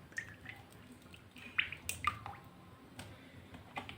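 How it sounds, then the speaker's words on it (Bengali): White cooking oil is poured into a kadai, giving a soft, faint liquid trickle with a few drips and small squishy splashes, close by and quiet. "এখানে একটা কড়া বসিয়ে দিয়েছি, দিয়ে দিচ্ছি সাদা তেল।"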